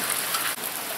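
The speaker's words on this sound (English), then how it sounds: "I'll wait till the rain subsides" Steady rain falls, making a dense, even hiss throughout with no other sounds.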